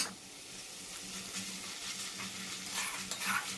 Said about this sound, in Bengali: মটরশুঁটিটাও কাঁচা গন্ধ বেরোনো পর্যন্ত একটু ভাজা করে নিতে হবে।